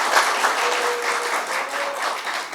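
Thick, sustained clapping from a large audience at an outdoor political rally in Tundikhel, continuous and loud, with a faint tonal whistle or shout briefly rising through the crowd noise.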